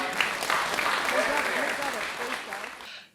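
Applause from the audience at a Shetland fine lace auction, a steady wash of clapping lasting about three seconds before fading out quickly.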